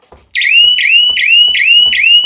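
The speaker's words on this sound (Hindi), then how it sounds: "अगर घर में कोई घुसता है तो अलार्म इतना तेज बजता है" A piercing electronic burglar alarm in a house blares in rapid, repeated rising whoops, five in a row, loud and close.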